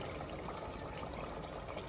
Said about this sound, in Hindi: इसमें अब मैं 1 मग पानी डालूंगी